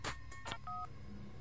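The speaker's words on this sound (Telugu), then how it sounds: "అది సెల్ ఫోన్ రాగం" Short electronic cell phone ringtone in a Telugu comedy film scene: a few quick, bright beeps followed by a held two-tone note, fairly quiet.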